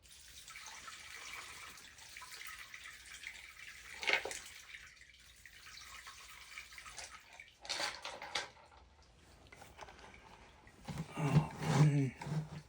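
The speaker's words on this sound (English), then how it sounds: "Pour some of the water off, not much." Water splashes and pours in short bursts as it is poured off a rock tumbler batch, with quiet gaps between, the sound close and fairly soft.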